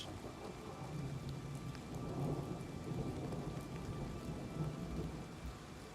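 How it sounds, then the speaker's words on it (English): Thunderstorm in the game Oblivion heard from underground near the surface: a steady wash of rain with low, rolling thunder rumbling in the background, fairly faint and continuous. "we can still hear thunder too"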